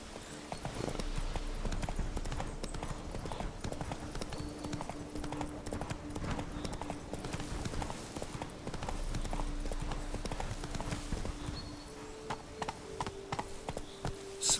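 Roach, the horse in the video game The Witcher 3, galloping with rapid rhythmic hoof clip-clops that run steadily and close, slowing near the end, with occasional game sounds underneath.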